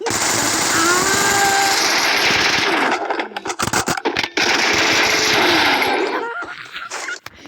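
Rapid automatic gunfire rattles in two long, loud, dense bursts separated by a short broken pause, with scattered sharp shots trailing at the end.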